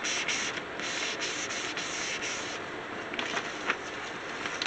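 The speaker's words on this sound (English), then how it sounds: "Oh, even really scrubbing it," A gel printing plate is scrubbed hard by hand, giving a continuous, close, rough rubbing texture with repeated back-and-forth strokes and no speech.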